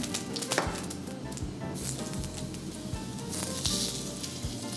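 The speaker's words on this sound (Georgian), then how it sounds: "შევწვათ გრილზე ჩვენი ატამი და გარგარი და ვაშლატამა." Large pieces of peach, apricot and nectarine sear in olive oil on a well-heated grill pan, a close, continuous sizzle broken by irregular knocks and clatters.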